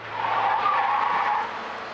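An off-road SUV brakes hard, its tires skidding in a loud, sustained squeal that swells and holds for over a second before easing off, with a low engine hum underneath.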